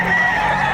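Chickens at a livestock auction market in Padre Garcia, Batangas, giving a brief, loud, close honking squawk that fills the whole short moment.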